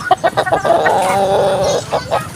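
Farm chickens clucking loudly and close, a quick run of sharp clucks followed by a drawn-out squawking call and a few more clucks at the end.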